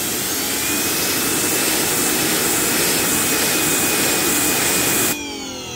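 An EGO 56V battery pressure washer runs on its turbo setting, a loud, steady close-up roar of spraying water with a thin high whine that cuts off sharply near the end.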